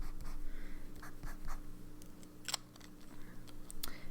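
Fountain pen with a 14 karat gold nib scratching across paper in short, soft strokes, faint and close, with a steady low hum underneath.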